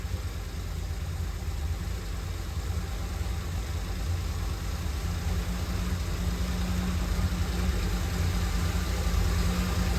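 A Jaguar E-Type engine runs steadily nearby with a constant low hum, rising slightly in revs partway through, no voices.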